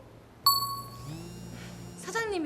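A mobile phone notification gives a single bright ding with a long ringing tail, followed by low background sound and a soft chime near the end.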